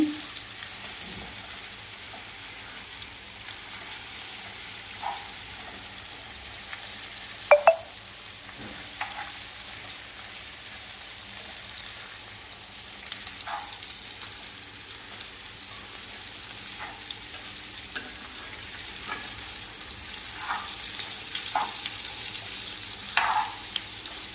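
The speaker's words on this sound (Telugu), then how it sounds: "బంగాళదుంప ముక్కలు ఈ విధంగా ఇప్పుడు దీనిలో వేసేద్దాం ఒకసారి ఇంత కలిపేసుకుని" Small potato pieces frying in spice masala in a pan, a soft continuous sizzle with occasional faint clinks and scrapes of a spoon stirring, close and quiet, no talking.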